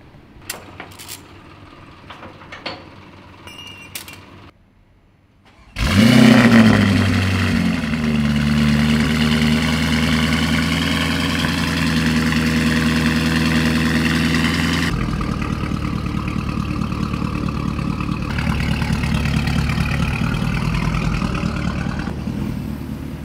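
A powerful Lamborghini sports car engine fires up with a loud roar and settles into a deep, rumbling idle that stays strong and steady, with no talking.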